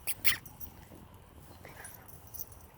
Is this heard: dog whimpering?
yes